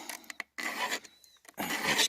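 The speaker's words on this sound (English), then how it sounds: "That's the easiest way for a beginner to sharpen a chainsaw. So now I will file." A round file sharpening a chainsaw chain tooth, heard as three close, rasping strokes of metal on metal with short pauses between them.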